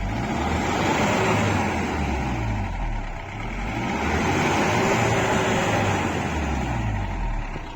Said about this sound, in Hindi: अब हमने गाड़ी की 2-3 बार रेस करके आपको दिखा दिया।